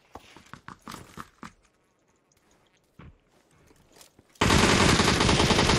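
Video game gunfire coming through a teammate's mic, with sharp clustered shots and bursts up close, a pause, a few more shots, then a loud burst of harsh, clipped mic noise.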